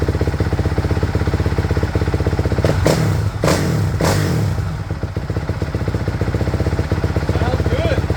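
A Honda CRF450R dirt bike fitted with an aftermarket exhaust runs loud and close, its steady four-stroke idle broken by a few sharp blips of the throttle midway before settling back to a rumbling idle.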